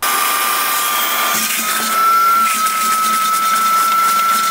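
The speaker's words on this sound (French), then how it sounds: "Et sinon avec un aspirateur à sable." Sand vacuum sucking sand out of a swimming pool sand filter, a loud steady motor whine and hiss that runs throughout with no break.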